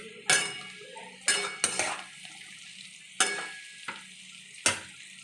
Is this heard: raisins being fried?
yes